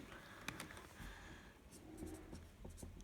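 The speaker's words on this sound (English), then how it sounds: "I'm going to write that down." A pen scratches briefly on paper at close range, writing down a current reading in a quiet room, with a few short strokes and taps.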